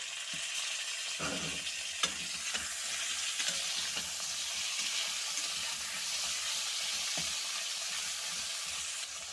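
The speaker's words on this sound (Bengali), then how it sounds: "তো এবারে আমি দিচ্ছি টমেটো আর কাঁচা লঙ্কা" Tomatoes and green chillies fry in a pan with potatoes for a rohu fish curry, giving a steady, close hiss and sizzle with occasional stirring clicks and scrapes throughout, without talk.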